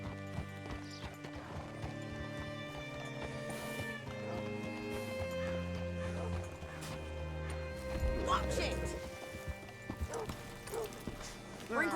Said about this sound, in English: Hitch your horse up here.